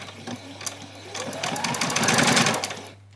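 A sewing machine stitches a short back stitch on an apron piece: a rapid mechanical chatter that speeds up, runs for about two seconds and then stops.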